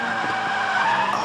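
A Legends race car loses its rear end on track and skids after contact, its tires squealing in a loud, sustained screech over steady engine roar.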